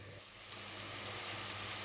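Ginger and garlic sizzle in a little oil with chicken in a clay pot, a steady soft frying hiss that builds slightly, heard alone and fairly quiet.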